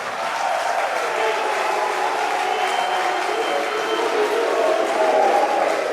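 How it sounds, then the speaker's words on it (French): A political rally crowd in Côte d'Ivoire applauds the First Lady with a sustained, diffuse wash of clapping and cheering from a large audience, steady throughout. "Il faut applaudir Madame la Première Dame."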